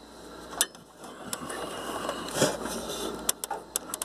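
Small screwdriver working at the coin-sized CMOS battery in a Dell Optiplex GX620 desktop, giving sharp scattered metallic clicks and scrapes close up, with a quiet mechanical hum underneath and no talking.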